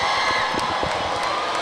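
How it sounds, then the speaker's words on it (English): A crowd cheers and whoops at a varsity high school basketball game, Curtis vs St. Peter's, a loud sustained roar with scattered shouts and sharp claps throughout. "the crowd's getting excited into this now"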